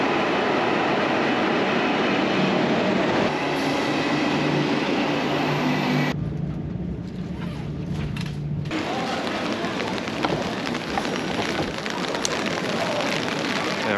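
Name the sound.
train to Busan arriving at station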